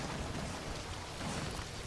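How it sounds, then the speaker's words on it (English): Steady rain falls in the video game Death Stranding Director's Cut, a constant even hiss with a low rumbling undertone, continuous and fairly close throughout the short stretch with no talk. "Waiting out the rain isn't gonna work."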